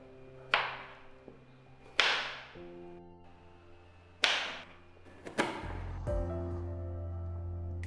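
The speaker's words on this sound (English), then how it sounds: "we need 2 medium-sized tomatoes and onions. Roughly chop them." A knife roughly chops tomatoes and onions on a board for butter chicken masala, giving four loud, widely spaced thuds over steady background music.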